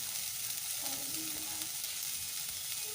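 Small-cut cauliflower florets fry in oil in a kadai, giving a steady, even hiss of sizzling that holds at a constant level throughout, faint and close, with no talking.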